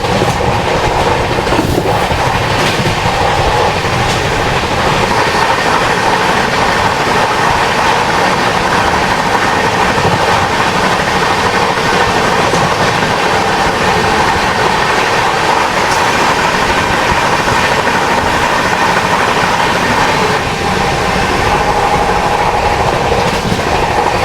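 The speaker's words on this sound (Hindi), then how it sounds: "ट्रेन ने निकलते ही अभी देखो 128 kmph, मतलब ऑलमोस्ट 130 kmph की स्पीड पकड़ ली है।" The Kota Patna Express running at about 130 km/h, heard from on board: a loud, steady, roaring rumble of wheels and carriages with faint rhythmic clickety-clack over rail joints, continuous throughout.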